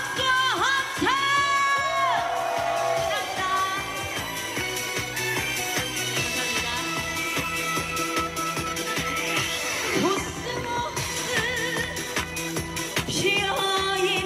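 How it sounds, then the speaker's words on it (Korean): Festival crowd at an outdoor stage show in Suncheon cheers, whoops and claps with sustained loud energy while music plays underneath, the roar swelling and dipping across the stretch. "즐거우신 분들 다 같이 박수와 함성"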